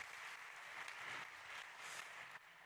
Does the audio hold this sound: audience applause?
yes